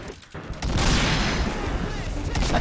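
Gunfire in the Point Blank shooter game: a loud shot bursts out after a short lull and rings into a dense, noisy tail, with a voice talking over it.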